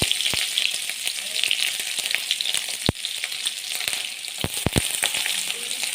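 Onions fry over low flame in hot oil in a kadai wok, a dense steady sizzle with scattered crackles and pops and a few sharp utensil taps close by.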